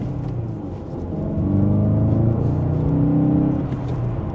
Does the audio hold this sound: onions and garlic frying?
no